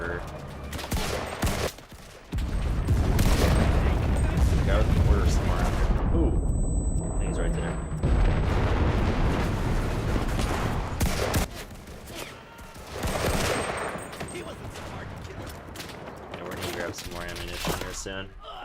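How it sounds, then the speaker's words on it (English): Mortar blasts and rapid gunfire in the multiplayer war shooter Enlisted, with dense overlapping bursts and booms nearly throughout, loud and close, with people talking over the battle at times. "What the hell is that mortar? Guy with the mortar somewhere."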